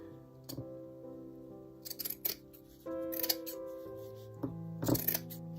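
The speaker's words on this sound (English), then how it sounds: "and then trim that again." Scissors snip through frayed fabric edges during a spring craft project, giving several short, crisp cuts spaced a second or so apart over soft background music.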